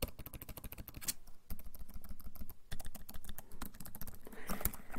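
Fingers type rapidly on a laptop keyboard, a dense run of close, crisp key clicks with a couple of brief pauses, heard alone and fairly quiet.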